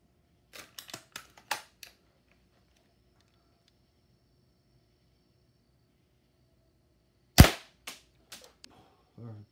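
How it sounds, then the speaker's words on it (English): A Tokyo Marui VSR-10 airsoft rifle fires into a chronograph: a quick string of sharp cracks, then a pause, and a single louder close shot followed by smaller clicks and handling sounds, with no talking. "Gonna be taking some shots with my Tokyo Marui VSR-10 with a katana weapon charm"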